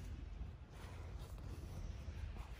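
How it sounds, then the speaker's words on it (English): A clothes dryer running gives a steady low rumbling hum throughout, dull and muffled, heard from under the house behind a wall, with no speech. "I'm sitting right behind where the dryer is, and it's running right now."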